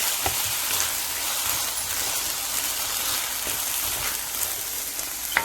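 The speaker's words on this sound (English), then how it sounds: "Then I'm going to add the rice." Rice sizzles and fries steadily in a pot with pigeon peas, Guyanese style, a continuous close crackling hiss with faint clinks of stirring.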